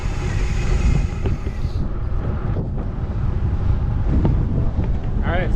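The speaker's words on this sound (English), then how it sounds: "wind is fucking gnarly. Getting blown all over the place." Heavy, roaring wind buffets the microphone on a gravel bike ride, a constant loud low rumble lasting throughout, with faint voice-like sounds mixed in.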